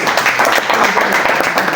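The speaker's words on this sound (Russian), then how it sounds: "С благодарностью наши аплодисменты." An audience applauds a speech by a State Duma deputy, a dense, loud burst of clapping that fills the short moment without pause.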